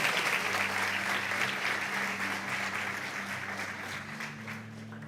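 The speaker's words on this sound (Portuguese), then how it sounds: "Você pode dar um aplauso bem forte ao Senhor?" Church congregation applauding during a worship service, a steady wash of clapping from many hands over a low sustained musical drone, gradually softening toward the end.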